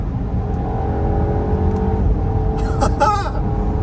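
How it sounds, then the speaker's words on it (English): A turbocharged car engine hums steadily inside the cabin, then a quick cluster of sharp exhaust pops and crackles near the end. "I love the little pops on the exhaust actually."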